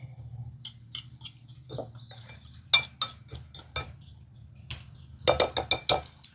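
Spoon clinking against a glass or metal bowl while cinnamon, nutmeg and salt are mixed into French toast casserole batter, quiet irregular taps in short bursts, a busier flurry near the end, over a low background hum.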